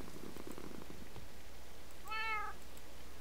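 In Minecraft's Dawncraft modpack, a cat gives a single clear meow partway through, after a soft low rumble at the start, with faint ambient game noise throughout.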